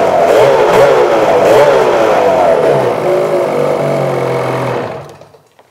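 Ski-Doo Freeride snowmobile run up after a belt drive install, its engine revving loudly close by as the belt and track spin with a whirring drone, then winding down and fading to near silence near the end.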